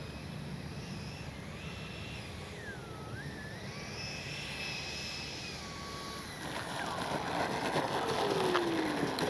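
Freewing 90mm Zeus RC jet on its landing approach with gear and flaps down, a steady whining turbine drone whose pitch sweeps and dips, growing louder and rougher toward the end as it touches down.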